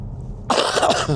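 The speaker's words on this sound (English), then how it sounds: "Excuse me for coughing." A single close, harsh cough breaks out after a brief quiet moment, followed by a rough throaty rasp.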